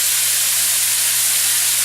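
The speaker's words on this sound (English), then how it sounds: "They're frying real pretty, really good." Steaks fry in a hot pan, giving a loud, continuous sizzle and hiss that stays steady from start to finish, close up and with no talking.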